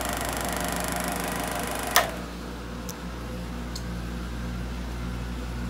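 A Harbor Freight scroll saw runs steadily with a low mechanical hum and a faint ticking rhythm, and a single sharp click partway through as the speed setting changes.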